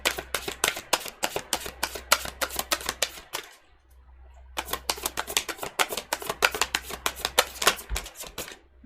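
Tarot cards shuffled by hand in rapid, crisp riffling bursts, a brief pause of near silence midway, then another long run of quick flutters, close and clear with no talking.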